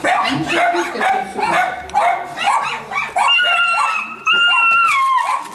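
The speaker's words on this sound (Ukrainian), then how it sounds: "постійний гавкіт собак з квартири не дає спокою сусідам ні вдень, ні вночі" Several dogs kept in an apartment bark and yip repeatedly, loud and close, with some higher whining tones mixed in.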